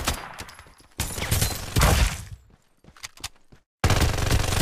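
Bursts of heavy automatic gunfire from a Farlight 84 battle-royale match come loud and close, several dense volleys broken by short pauses, with no talk over them.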